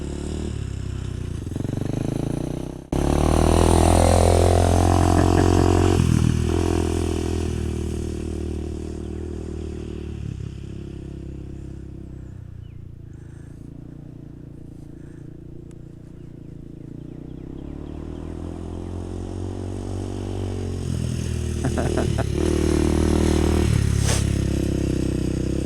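A Honda 400EX ATV engine with the throttle pumped in bursts, loud and close, rising and falling as it idles between revs, with some clatter.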